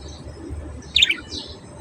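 Small pet birds kept in a home cage chirp in a short burst of high tweets, fairly close, over a low background hum with no talking.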